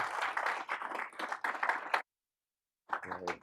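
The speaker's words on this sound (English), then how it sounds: "Please give a nice round of applause for them." An audience at a coaching panel event gives a faint, brief round of applause for the panelists that cuts off abruptly, then a voice begins after a short silence.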